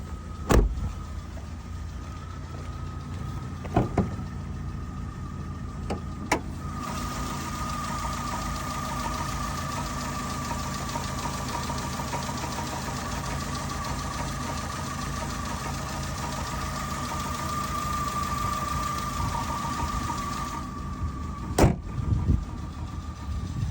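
A Ford Ka car engine idles steadily nearby with a low, even hum, broken by a few sharp clicks and knocks near the start and end.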